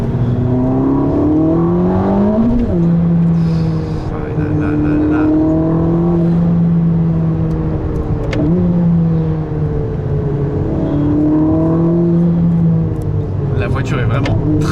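A Ferrari SF90 Stradale hypercar of 1000 hp drives on a road with its engine note rising and falling through repeated accelerations and gear changes, a loud cabin rumble, and a voice speaking over it.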